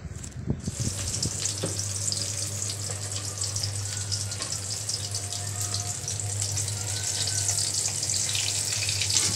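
Katla fish frying in very hot oil produces a loud, steady, hissing sizzle, close and continuous, with a brief clatter at the start.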